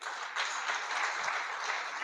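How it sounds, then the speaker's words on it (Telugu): A church congregation applauds together to celebrate a 24th wedding anniversary, with steady broadband clapping that holds for about two seconds and swells slightly after a brief opening. "అందరూ చప్పట్లు కొట్టండి ఒకసారి"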